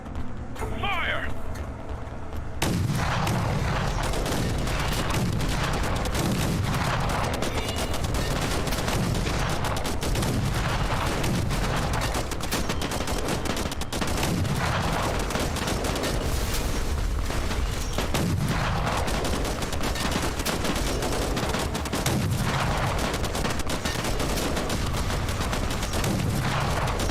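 Sustained gunfire in the Fallout: New Vegas mod The Frontier, a dense continuous fusillade of shots and bursts running for nearly half a minute, loud and steady from start to finish.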